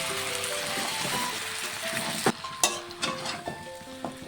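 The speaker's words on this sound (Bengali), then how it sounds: "কিছুক্ষণ মাটনটাকে খুব ভালোভাবে কষিয়ে নেব।" Mutton with potatoes sizzles and fries in a pan with spices, a steady crackle broken by stirring clatters and scrapes in the second half, close and fairly loud with no talking.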